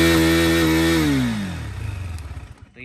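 Gen 2 KTM Duke 390 engine screaming near redline and then dropping away as the revs fall, close and loud, ending in a quick burst of sputtering pops.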